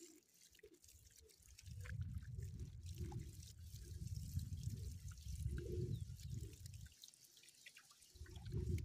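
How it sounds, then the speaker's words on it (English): Water poured over a small puppy during a bath, a low, continuous splashing and trickling that swells in bursts, drops away briefly near the end, then returns, close by with no talk. "Oh, pour water."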